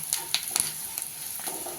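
Food frying gently in a pan as it turns lightly brown, a quiet steady sizzle with soft scattered crackles and light stirring clicks, no voices.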